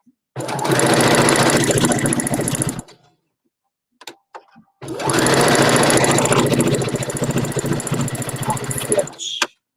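A sewing machine runs a basting stitch on fabric in two loud, close, rapid-fire bursts of whirring needle clatter, separated by a short pause with a few faint clicks.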